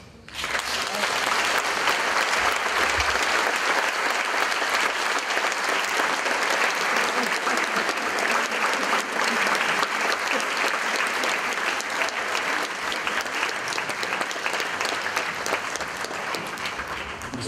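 An audience in a hall breaks into loud, sustained applause that stays dense and even for many seconds before easing slightly toward the end.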